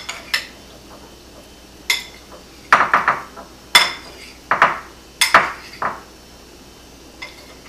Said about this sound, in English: Take your spoon and spoon it around so that the sauce gets all over all the pieces of tofu.